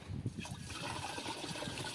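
Water gushes and trickles steadily into a pesticide spray pump tank, a close, continuous liquid splashing outdoors in a sesame field.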